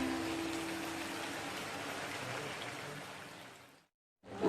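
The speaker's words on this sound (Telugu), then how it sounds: "ఇప్పుడు పులుసు పోద్దాము." Thick tamarind broth pours steadily into an Andhra-style fish curry with a soft, rain-like splashing that fades out, falls silent briefly, then begins again.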